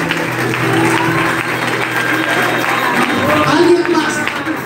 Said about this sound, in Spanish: dele aplauso al Señor por ella.